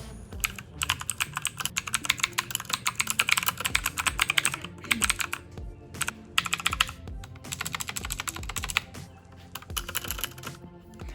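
Fast, steady typing on a 60% mechanical gaming keyboard, with loud clicky keystrokes in quick bursts and brief pauses, close up and with no voices.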